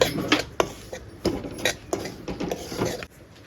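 Semolina being dry-roasted in a pan for sanjori, with a utensil repeatedly scraping and clinking against the metal in quick irregular strokes, close and fairly loud.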